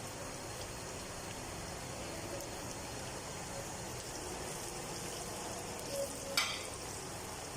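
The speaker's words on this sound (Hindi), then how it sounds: "घी के अंदर प्याज शामिल करने के बाद इसको लाइट गोल्डन आने तक हम प्याज को फ्राई कर लेंगे" Two medium onions, sliced, fry in hot ghee in a pan with a steady, close, even sizzle throughout and a brief metallic clink near the end.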